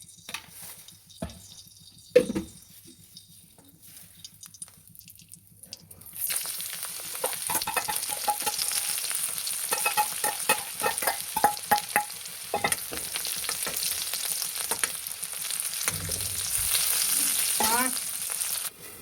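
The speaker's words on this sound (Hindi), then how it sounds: "अब हम इसे फ्राई करेंगे। अभी हम डालेंगे तेल।" Spinach sabzi hitting hot oil in a kadhai sets off a steady, loud sizzle that keeps going after a quiet start, with stirring scrapes breaking through now and then.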